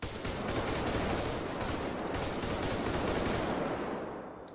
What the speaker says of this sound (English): the AK-47 assault rifle